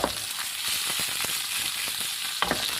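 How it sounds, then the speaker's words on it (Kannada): Fish sizzles steadily in a covered pan on low gas flame, a constant broadband hiss with a few faint crackles and soft clicks near the start and end. "ಇದು ಈ ರೀತಿ ಫ್ರೈ ಆಗೋದು ಒಂಚೂರು ಗ್ಯಾಸ್ ನಮ್ಮ ಮಲ್ಲ ಮಾಡ್ಕೊಂಡು ಫ್ರೈ ಆಗೋದು"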